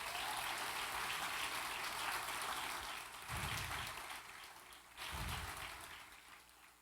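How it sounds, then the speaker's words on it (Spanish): A church congregation applauds in a dense, hissing wash of clapping that holds steady, then thins and softens toward the end, broken by a couple of low thumps. "Denle un aplauso a Jesús"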